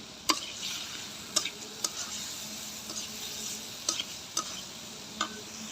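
Rui fish fries in spiced oil in a pan, a soft continuous sizzle broken by sharp metallic clinks of a spatula or ladle against the pan, roughly one each second.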